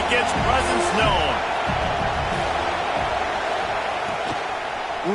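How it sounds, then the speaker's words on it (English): A stadium crowd in the college football video game NCAA 26 keeps up a steady, roaring din of cheers and shouts, with scattered whoops rising out of the dense, even wash of noise. "This crowd ready to make its presence known."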